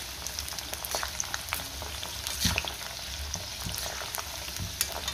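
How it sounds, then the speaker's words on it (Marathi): Okra frying in a pan for a dhaba-style bhindi masala: a constant close sizzle with scattered pops and the clatter of stirring. "भेंडी आपल्याला व्यवस्थित फ्राय करून घ्यायची आहे।"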